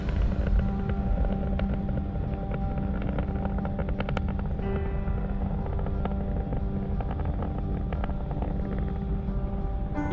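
A SpaceX Falcon 9 rocket roars in supersonic flight, a continuous heavy rumble with crackling bursts, steady and distant over ten seconds.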